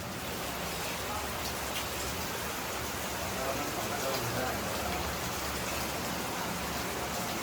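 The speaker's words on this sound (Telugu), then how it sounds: "వర్షం మాత్రం ఫుల్గా రేజ్ అయిపోయి బాగా పడిపోతుంది ఇంకా ఆగేటట్లేదు" Heavy rain pours steadily and densely, a constant loud hiss of drops striking surfaces with no pause across the whole stretch, rainy-day downpour with no one talking.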